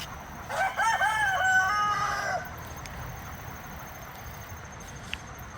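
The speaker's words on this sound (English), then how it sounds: "These are some Cornish cross chicks." A Cornish cross rooster crows once nearby in a clear, loud, drawn-out call lasting about two seconds. Quiet farmyard background noise follows.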